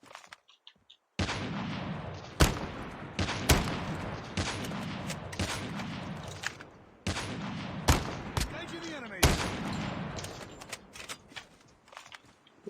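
Sharp gunshots from the Call of Duty Mobile battle royale ring out as separate loud cracks and short bursts, spread irregularly across the stretch, with someone talking in Turkish between them.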